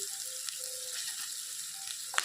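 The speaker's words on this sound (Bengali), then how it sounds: "তো এখন একটু লাল লাল করে এগুলোকে ভাজতে হবে।" Soft, steady sizzling of onion and garlic frying in a pan, fairly quiet and continuous, with a brief clatter near the end.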